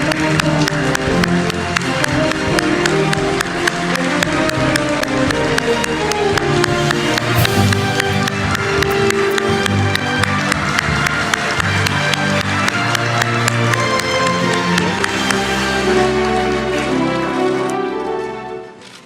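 Sustained, loud applause from a press conference audience welcoming South Korea's president as he enters, dense clapping that holds steady before fading out at the end.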